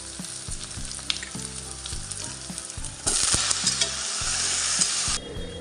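Onion and potato with poppy seed fry in a pan, a loud close sizzle with rhythmic stirring scrapes that swells into a fiercer hiss midway before easing back.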